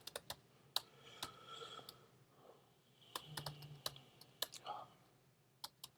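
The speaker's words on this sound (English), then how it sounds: "Trying to type" Someone types on a computer keyboard in uneven bursts of close, crisp key clicks with pauses between them, and a quiet whispery voice is faintly present.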